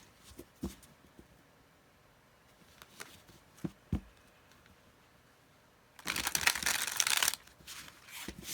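A Marseille tarot deck is handled with a few scattered taps and soft card clicks, then a dense, loud riffling shuffle bursts in near the end, close and without talking.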